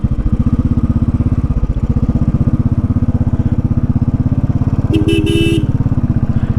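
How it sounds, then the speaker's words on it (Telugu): Heavy diesel bus engine on a hairpin bend of the Kolli Hills ghat road, a loud, steady, throbbing drone close by for the whole stretch, with a brief horn-like tonal blast near the end. "ఏదో నాకు బస్సు సౌండ్ వినపడింది గైస్."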